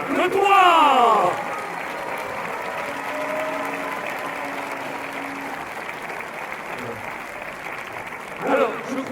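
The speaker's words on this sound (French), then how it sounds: "On en profite également pour applaudir tous les concurrents" An audience at an archery competition final applauds the competitors, steady crowd clapping running throughout, with a voice speaking over the first second and another near the end.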